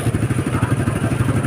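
Motorcycle engine running close by near Tumalog Falls, a steady throbbing putter with rhythmic low pulses, no talk over it.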